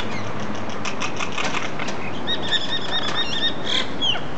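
Birds scuffle in a fight, wings flapping in quick rapid bursts up close, with sharp high chirps and calls breaking in during the second half.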